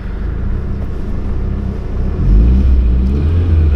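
A VW Lupo driving, with a steady low engine rumble that swells louder as it accelerates partway through, heard from inside the car with no talk.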